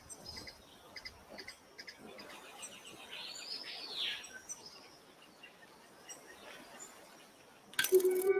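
Small bird chirping on a scientific expedition to a remote site, a sequence of thin, high tweets and a brief warbling phrase, faint and somewhat distant over quiet ambience, ending with a sudden louder burst of noise.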